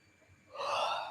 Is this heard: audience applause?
no